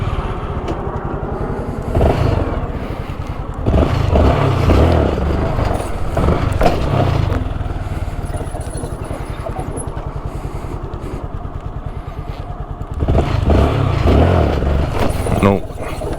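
Small-displacement Honda Grom motorcycle engine revving hard during wheelie practice on a bike fitted with training wheels, a steady buzzing drone that surges louder in bursts near the start, middle and end, with a person's voice briefly under the engine.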